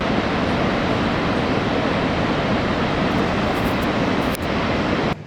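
Iguazu Falls on the Brazilian side sends up a loud, steady, broadband roar of falling water that holds without a break and stands alone with no voices.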